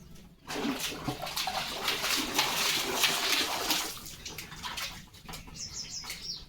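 A dog named Leo splashes in water in a yard, a loud stretch of sloshing that tapers off, with small birds chirping faintly near the end.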